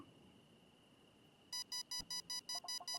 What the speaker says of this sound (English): EMF meter beeping.